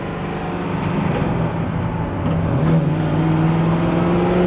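A 1965 Chevrolet Impala SS engine with a four-speed manual hums and revs steadily up close, its pitch rising and shifting as it moves through gears, including reverse, with no voices.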